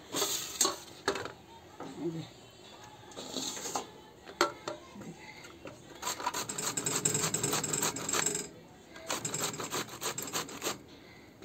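Spoon scraping thickened milk along the bottom of a pan while cooking bottle gourd kheer, a series of uneven rasping strokes in bursts, close and fairly quiet.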